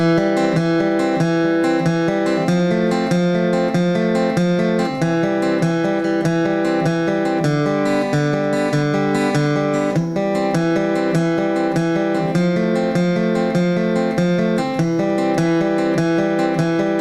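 A guitar crosspicks a steady, repeating chord pattern across the strings, the notes rolling in an even, continuous rhythm without any talking.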